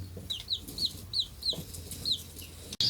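Backyard chickens give a rapid series of close, high clucks and short calls at a steady pecking rhythm, with no talk, ending in a brief bump.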